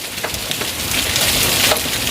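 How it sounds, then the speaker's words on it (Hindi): Hail falling outdoors, a dense loud patter of hard pellets striking surfaces close by, steady and continuous. "ओले गिर गया, ओले यार"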